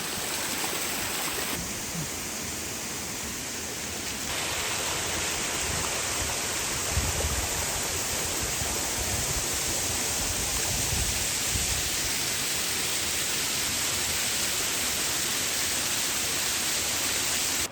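Mountain stream and waterfall rushing steadily and loudly, a broad continuous roar of water near at hand, with nothing else over it.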